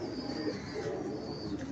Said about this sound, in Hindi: ले जी जनाब अली, ये कबूतरी देखें,